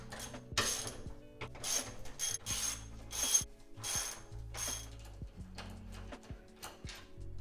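Ratchet wrench clicking in rapid bursts while loosening 16mm suspension bolts on a BMW F80 M3 during a coilover install, close and alone with repeated ratcheting runs and brief pauses.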